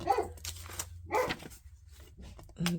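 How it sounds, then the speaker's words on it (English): A dog barks indoors, several sharp barks in two bursts with a pause between, fairly close and clear, with a brief faint voice near the end. "Do not know what she is barking at."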